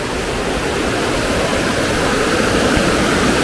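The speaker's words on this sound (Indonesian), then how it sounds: "Kita lihat ini sungai Cikapundung" Cikapundung river flowing beside a house, a loud, steady broadband rush of water with no breaks and no voices.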